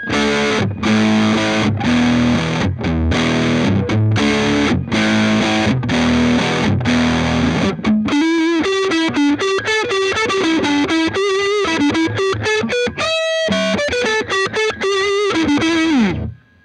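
Harley Benton T-Style electric guitar kit played through distortion on the neck pickup: loud, continuous sustained chords and riffs, then single-note lead lines with a brief pause near the end.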